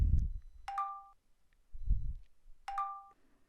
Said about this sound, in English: we're going to add some notification sound to it as well